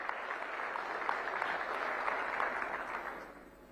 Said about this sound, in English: a massive round of applause for our advisory board who've put this program together